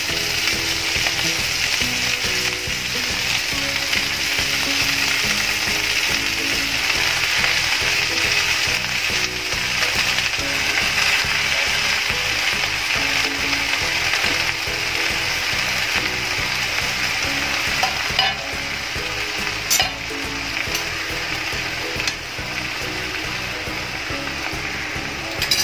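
Fenugreek leaves frying with softened onion in a pan, a loud continuous sizzle with occasional stirring scrapes throughout, no voices.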